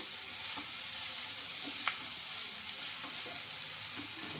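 Cabbage and eggs sizzling in a pan as they are stirred, a steady bright hiss of frying with faint, sparse spatula taps, close and fairly quiet throughout.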